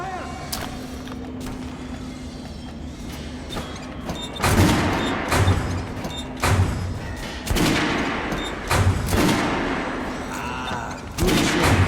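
Kalash assault rifle fire in the shooter Metro Last Light, a series of sharp gunshot bursts and thumps over a steady low rumble, the shots growing louder and more frequent in the second half.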